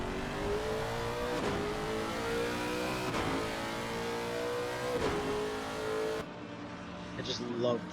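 A Lexus GT3 race car engine roars steadily with rising revs at a Paul Ricard endurance race, several gear-change dips, then the sound cuts to a quieter, distant tone near the end.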